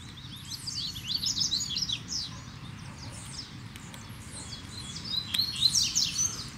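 A double-collared seedeater (coleiro) sings in a rapid series of sharp chirps and twittering phrases, fairly close, over a low steady background rumble without any talk.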